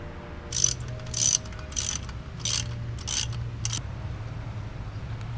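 A ratchet wrench tightening alternator bolts on a 2JZ-engined MK3 Supra, sounding as six rapid, close clicking bursts of the pawl with brief pauses between, over a low steady hum.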